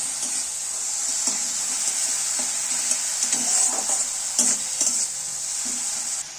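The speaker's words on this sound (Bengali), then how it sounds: "আদাটা বেশি ভাজার প্রয়োজন নেই, একটুখানি নেড়ে চেড়ে নিলেই হবে তেলের মধ্যে" Grated ginger fries in hot oil in a pan with a steady, loud sizzle, while a spatula stirs it in a series of soft scraping strokes. No voices are heard.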